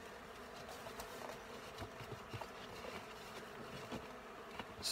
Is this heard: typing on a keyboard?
no